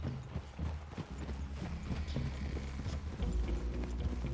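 Horse hooves clip-clop steadily at a walking pace in Red Dead Redemption 2 gameplay, with a few soft snorts and some background ambience.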